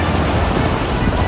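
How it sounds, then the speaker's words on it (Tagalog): Floodwater rushes through the Lusaran River in Cebu City during heavy rain, a dense, loud, unbroken roar of churning water filling the short stretch. "Humagasa ang tubig sa Lusaran River sa Cebu City."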